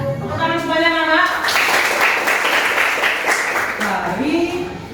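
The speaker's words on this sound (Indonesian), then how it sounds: "Tepuk tangan semuanya anak." Children in a classroom clapping hands together after singing a song, with dense, lively clapping following the end of the singing, then an adult voice speaking near the end.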